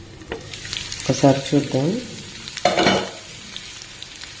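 Vegetables fry in a pan for a sweet potato soup, a steady sizzle running under a woman's brief spoken remarks.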